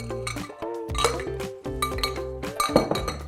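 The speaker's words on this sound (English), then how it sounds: "Now let's add some ice into our Collins glass." A Collins stick of ice is dropped into a tall Collins glass, giving a run of bright ringing clinks and knocks close up, several sharp hits over a few seconds with no talk.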